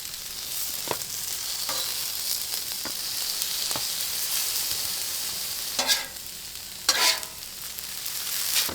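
Shrimp fry in ginger garlic butter on a Blackstone griddle, a steady close sizzle with occasional sharp scrapes and stirring bursts from a spatula, no voices.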